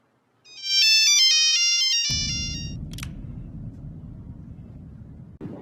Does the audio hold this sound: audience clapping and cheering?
no